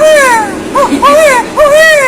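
A voice imitates a crying baby with three rising-and-falling wails, the middle one shorter, close and fairly loud.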